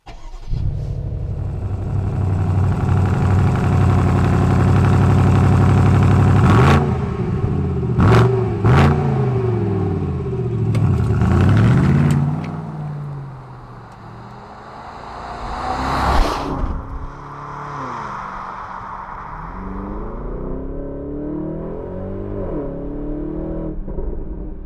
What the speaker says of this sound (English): The 850i comes to life with a pleasant growl